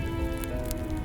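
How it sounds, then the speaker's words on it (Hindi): Heavy rain pours steadily in a dense, even hiss of drops on a surface, continuous and close with no voices. "बहुत तेज बारिश हो रही है।"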